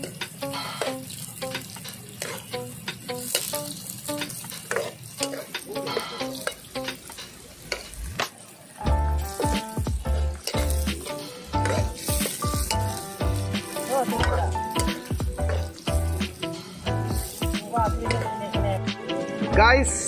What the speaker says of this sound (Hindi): ये प्याज को तोड़ा हम धीमी आंच पे पकने देंगे ब्राउन होने तक सुंदर से।